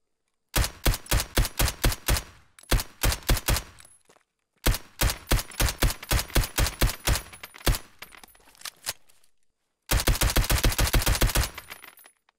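Rapid, sharp, thudding Colt M1911A1 pistol gunshots from Escape from Tarkov, fired in quick repeated bursts with short pauses between strings of shots.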